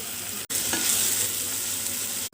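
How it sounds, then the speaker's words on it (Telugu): Ginger garlic paste and spices fry in a pan for a mushroom kaju curry, giving a close, bright sizzling hiss with a stirring scrape, framed by brief cuts at start and end. "ఫ్రై అయిన తర్వాత అల్లం వెల్లుల్లి పేస్ట్ వేసుకోవాలి. వాసన పోయేంత వరకు ఫ్రై చేసుకోవాలి."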